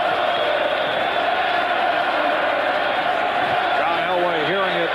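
Dense stadium crowd noise roars steadily throughout at an NFL game between the Denver Broncos and Philadelphia Eagles in 1992, the crowd booing quarterback John Elway, with a commentator talking over the din.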